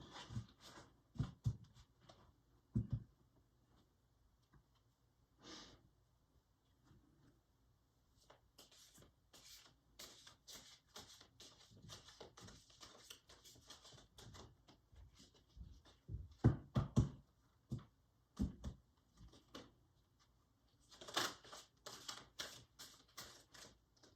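A deck of slick playing cards being shuffled and flipped, with crisp rapid riffling bursts and flicking clicks that come in clusters, some louder and close, against a quiet room.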